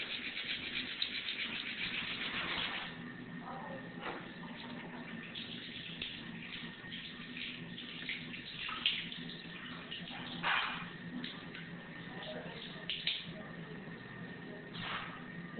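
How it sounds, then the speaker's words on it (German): Water runs steadily from a tap while a brush scrubs fingernails, giving a faint, continuous splashing hiss with occasional soft scratchy bursts. "es ist günstig, die Bürste vom Körper wegzuhalten, damit es nicht so sehr spritzt"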